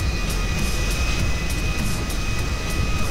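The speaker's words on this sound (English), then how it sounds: "Wait for plane to stop." Airplane in a video game taxiing to a halt after landing, a steady broadband engine roar with faint whine tones, loud and unchanging throughout.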